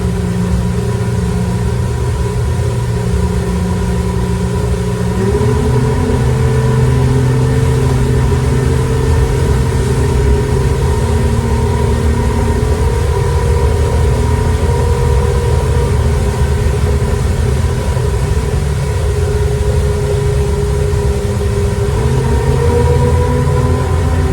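A 2022 World Cat 295CC boat on a sea trial runs its engines at wide open throttle, a loud constant droning roar with steady tonal hum and rushing wind and water, sustained without a break and with no talking.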